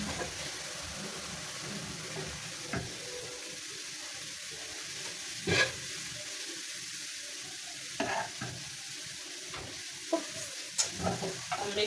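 Cooked rice is stir-fried in a pan with light soy sauce and beef chili, giving a soft, steady sizzle broken by scattered scraping and tapping strokes from the stirring utensil.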